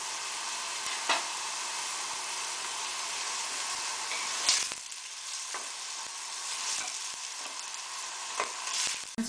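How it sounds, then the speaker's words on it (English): Onions and garlic frying in a pot, a steady bright sizzle throughout with a few louder crackles and scraping stirs, close and continuous with no voices. "I'm going to brown up the onions and garlic for a bit"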